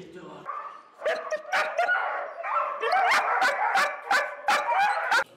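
Mine detection dogs in Afghanistan bark repeatedly in sharp, loud bursts with some yips and whimpers, close by, at an irregular fast rhythm.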